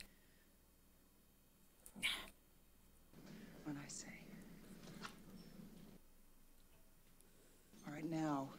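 A cat gives a short meow amid rustling, with hushed whispering voices nearby and a louder cry near the end.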